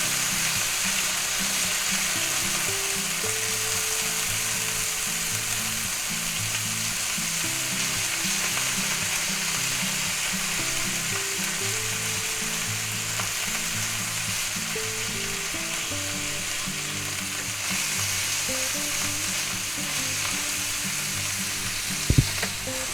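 Ground beef sizzling steadily in a hot pan while it is chopped up, a dense, even frying hiss with quiet background music underneath and a sharp clunk near the end.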